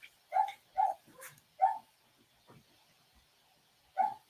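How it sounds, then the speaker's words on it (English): A pet dog gives a few odd, strained barks, three in quick succession and then one more after a pause, fairly faint and indoors with quiet between them. "He's barking in a strange sound."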